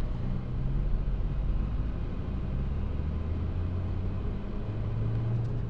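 A car on a street in Curitiba, Paraná gives off a deep, continuous engine rumble with a low droning tone, holding fairly level and close throughout, with no one speaking.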